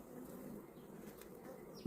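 Honey bees buzzing at the hive of a colony that yields 30 kg of honey, a steady dense drone close by, faint but continuous throughout.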